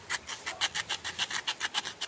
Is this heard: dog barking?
no